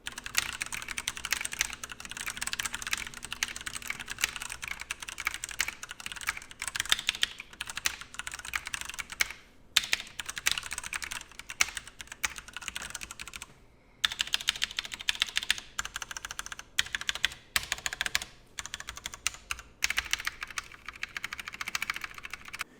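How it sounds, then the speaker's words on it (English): Rapid, continuous typing on a Durgod Taurus K310 mechanical keyboard with a larger plastic build and higher-profile keycaps. The keystrokes are close, steady and hollow, higher-pitched clacks with a few brief pauses, and no talking. "The larger plastic build and higher profile caps leads to a more hollow sounding, higher pitched typing."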